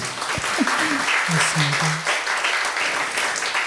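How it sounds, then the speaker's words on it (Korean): Applause from a church congregation during a Sunday worship service, a broad steady wash of clapping that fills the room while someone speaks briefly and other voices carry through. "박수 치셔도 괜찮습니다"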